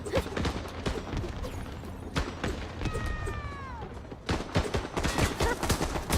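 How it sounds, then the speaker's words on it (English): Gunfire in the video game Worms Rumble comes in loud, close clusters of rapid shots with short gaps between bursts, plus a brief sweeping tonal effect partway through. "gunfire is above me"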